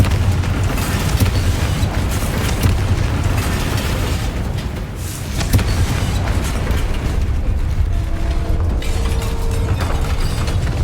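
Confringo explosive spell blasts in the Hogwarts Legacy video game, a dense, loud, rumbling barrage of booming explosions and crackling impacts filling the whole stretch.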